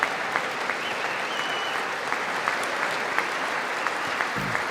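A large crowd applauds as the Second Lady of the United States is introduced, steady distant clapping with a few sharper claps standing out, and a brief low thump near the end.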